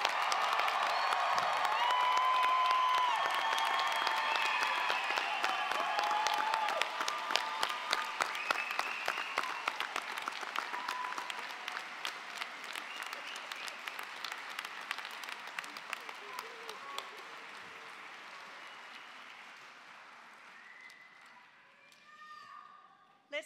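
A graduation crowd for a 2022 Physician Assistant class gives a long, loud round of applause with scattered cheers and whoops, thinning and fading out over about twenty seconds.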